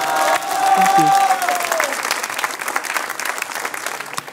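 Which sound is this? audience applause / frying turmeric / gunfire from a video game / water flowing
audience applause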